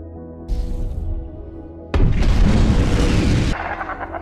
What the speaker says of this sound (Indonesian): ledakan besar terjadi